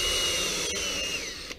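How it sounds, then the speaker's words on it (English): A power drill pre-drills holes into wooden slats of a Civil War camp chair, a steady whirring motor drone with a faint pitch drop near the end, close and alone without speech. "by pre-drilling, I'm making sure I'm getting into the right hole"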